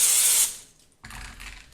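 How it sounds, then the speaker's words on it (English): Canola oil cooking spray hisses onto a Pyrex glass dish in one loud, close burst, then falls quiet before a brief clatter of handling at the end. "I'm going to spray it just with the canola oil again"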